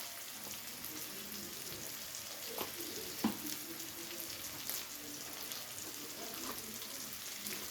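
Shrimp frying in hot oil with ground spices, salt and turmeric, a steady close sizzle with occasional stirring scrapes and small pops, no voices.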